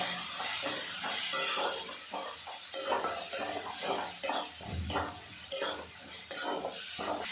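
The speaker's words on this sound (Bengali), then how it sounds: "এবারে এর মধ্যে দিয়ে দেব কড়াইশুঁটির পেস্ট, একটু নাড়াচাড়া করে নেব" Green pea paste stirred in a pan, a steady scraping and clinking of utensil against the pan over a continuous loud sizzle, close up with no talking.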